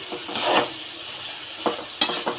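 Taro stem curry cooked with dried fish, frying and being stirred in a pan, giving a soft steady sizzle with several short scraping clicks of a spoon against the pan near the end.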